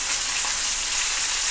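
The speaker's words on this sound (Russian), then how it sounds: "Сейчас жарим первую сторону." Steady, close sizzling of crucian carp frying in hot oil, a continuous crackling hiss with no voices.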